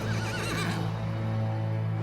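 Horses whinny and neigh from inside a livestock trailer after a semi truck lost control on a bend, a wavering, strained call over a steady low engine drone and rumble, with no talking.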